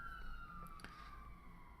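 Police car sirens in the JoJo's Bizarre Adventure Stone Ocean video game wail as a steady tone that slowly falls in pitch, faint and somewhat distant, with a couple of brief clicks partway through.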